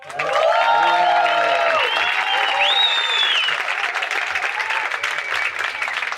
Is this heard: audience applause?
yes